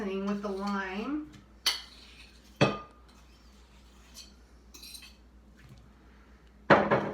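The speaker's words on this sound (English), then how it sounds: "Now I'm going to go ahead and scoop the avocado into the bowl of the seasoning with the lime." Metal utensils clink and scrape against a bowl while avocado is scooped into lime-seasoned mixture for guacamole, a few sharp knocks spaced apart with quiet gaps, plus a brief voice at the start.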